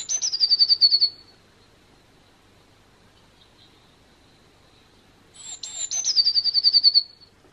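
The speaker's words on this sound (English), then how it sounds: "if you press them you get the bird song" Electronic bird song from a button on a children's sound book: two bursts of rapid, high chirping trills, one at the start and one near the end, with quiet in between.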